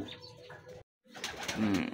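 Racing pigeons coo and flap their wings at a lap derby in Sinait, Ilocos, a soft burst of cooing first, then a brief pause, then a louder flurry of wingbeats and calls close by.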